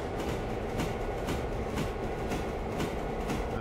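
A train in the video game Railroader rolls along with a steady rumbling drone and rhythmic clickety-clack beats from the wheels over rail joints, loud and continuous, with no talking.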